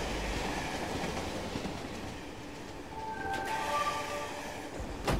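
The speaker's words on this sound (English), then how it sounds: "That train went by way too fast" A train rushes past at speed, a loud rumbling rattle of wheels on rails that swells and holds, with brief squealing tones and sharp clacks near the end.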